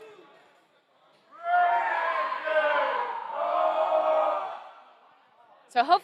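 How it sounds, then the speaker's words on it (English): A group of young cadet basketball players shout and cheer for their teammates during a timeout at a prep school game, a sustained burst of overlapping voices rising together for a few seconds, then a short final shout. "hear our boys cheering on their teammates and fellow cadets as they're getting ready to go back into the game"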